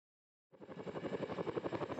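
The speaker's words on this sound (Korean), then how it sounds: "하늘의 짐꾼이라 불리는 대형 수송 헬기 CH-47 치누크 헬기입니다." Rotor chop from a CH-47 Chinook, a large tandem-rotor heavy transport helicopter, starts abruptly after half a second of silence and then holds a steady, rapid rhythmic thumping at fairly close range, loud and alone with no voices.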